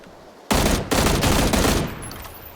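Rapid automatic gunfire bursts from a video game, loud and close, sounding in a few quick volleys over about two seconds with no talk.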